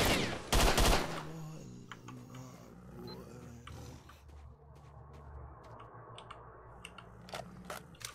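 In S.T.A.L.K.E.R.: Shadow of Chernobyl, the player's gun fires a loud close burst early on. Scattered sharper shots and clicks follow over a low, droning game ambience.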